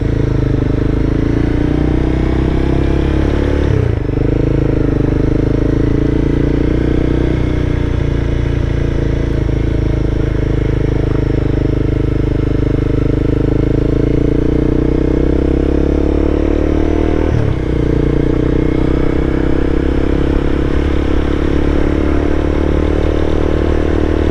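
A Honda CBR300R motorcycle rides through downtown streets, its engine droning loud and close throughout with a couple of brief shifts in pitch, accompanied by steady wind rumble and no talk.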